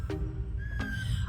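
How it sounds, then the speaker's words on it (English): A short whistled melody opens a song, with two rising whistle notes over a low music bed. "I love that whistle at the beginning."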